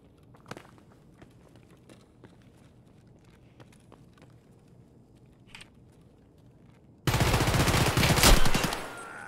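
Quiet clicks and footstep-like taps in the Escape from Tarkov shooter, then a sudden loud burst of rapid automatic gunfire near the end that rings briefly and fades.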